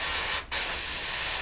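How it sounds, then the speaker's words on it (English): An airbrush sprays acrylic paint onto parts of a Revell 1/72 Lancaster model kit: a close, steady hiss that briefly cuts out and restarts, then runs on evenly. "So I'll spray all these bits and we'll spray there"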